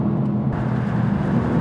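Mercedes-AMG GT R Pro driving on a track, a loud continuous engine roar with a low steady rumble throughout, no talking.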